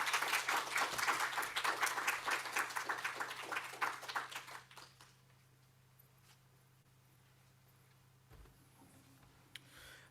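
Audience applause after a lecture on social work and climate justice, brisk many-handed clapping that fades away after about five seconds into quiet room tone.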